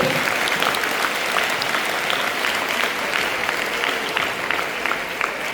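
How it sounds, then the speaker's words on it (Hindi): Loud, sustained audience applause at a Hindi poetry recital honoring children's performances, a dense steady roar of clapping throughout with no speech. "जोरदार तालियां सभी के लिए।"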